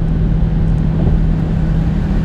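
A car's heater blower motor runs with a steady, droning hum, a low whirring tone and constant rushing air, close and unchanging throughout.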